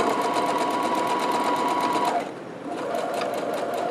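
A sewing machine stitches a locker caddy, running fast and steady with a rapid, even needle rhythm, close and loud, pausing briefly before resuming.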